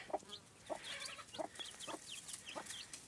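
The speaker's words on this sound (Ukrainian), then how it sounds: "Ну і ось курочка вже з ними шкребеться." A hen with five newly hatched chicks clucks in short, soft bursts, five or six of them spaced about half a second apart. The bird sounds close, with a little rustling and ambient noise between calls.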